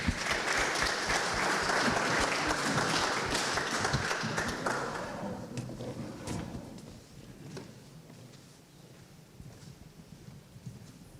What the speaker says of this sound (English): Let's have a round of applause for the Edenton Aces.